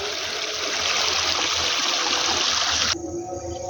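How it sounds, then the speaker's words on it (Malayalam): Water murmuring and rushing along a channel beside a rural field path at dusk, loud and continuous and close by, cutting off abruptly near the end and leaving quieter background. "വെള്ളത്തിന്റെ കളകളാരവം കേട്ടുകൊണ്ട് നമുക്ക് നടക്കാം."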